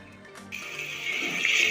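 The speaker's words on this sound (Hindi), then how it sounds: "अब मैं इसमें प्याज शामिल करूँगी और इसे लाइट ब्राउन कर लूँगी।" Onions drop into hot ghee for chicken salan, starting with a sudden loud hiss that settles into a building, steady close sizzle.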